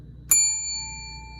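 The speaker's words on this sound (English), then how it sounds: "watch what happens when I ring the bell the second time." A single bright bell strike rings out, its clear metallic tone lingering and slowly fading in a quiet room, during a sound energy demonstration.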